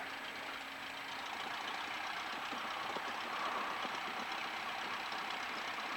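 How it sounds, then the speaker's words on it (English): A light aircraft piston engine idles at about 800 RPM while taxiing downhill, a steady muffled droning hum with faint rattling, heard from inside the cabin. "I love that I am at 800 RPMs and we're taxiing at 16 knots"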